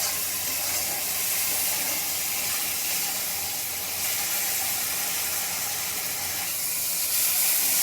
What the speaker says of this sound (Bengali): মশলাটা আবারও একটু কষিয়ে নিচ্ছি।